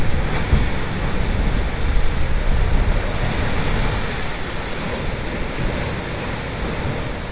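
Ocean waves surge against the rocky cliffs of Devil's Tears on Nusa Lembongan in a loud, steady roar of rushing water, with wind buffeting the microphone throughout.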